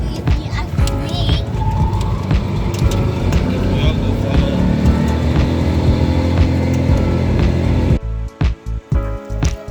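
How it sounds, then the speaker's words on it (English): A Keke motor tricycle ride in Nigeria: a loud, continuous engine drone with road rumble and rattling, passengers talking over it, before the noise cuts down near the end. "this fun part was when we took the Keke Maroa"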